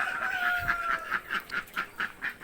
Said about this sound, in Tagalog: Yung mga native nating manok.